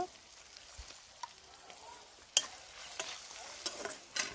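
Cumin, chili and ginger paste frying in hot oil in a pan: a soft, steady sizzle with scattered clicks and scrapes of stirring, fairly faint and with no voices.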